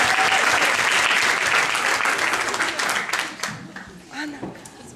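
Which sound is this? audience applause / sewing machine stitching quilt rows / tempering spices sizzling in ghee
audience applause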